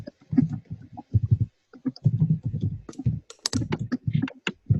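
Keys on a computer keyboard tapped in quick, uneven bursts, close and clear, with short pauses between clusters of clicks and no voices.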